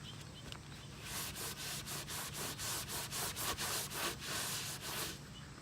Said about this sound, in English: you want to continue this process of wiping the tire with the acetone until there's hardly any black coming off onto the towel